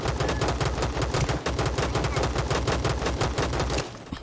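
Rapid automatic gunfire from the battle royale shooter Rules of Survival, a long sustained burst of close, loud shots firing in a steady rattling rhythm before cutting off near the end.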